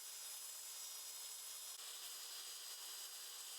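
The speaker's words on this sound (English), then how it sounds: "Now for the fun part, using the circular saw." Circular saw cutting through plywood, a loud steady high-pitched whir with hissing grit, continuous and close throughout.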